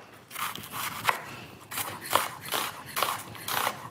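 A knife chops red onion on a cutting board, giving a few irregular, fairly close cuts with soft rustling between them and no talking.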